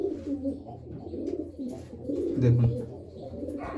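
Knot pigeons, including a pied white knot, coo in low repeated tones close by, with soft rustling and a brief voice speaking over them.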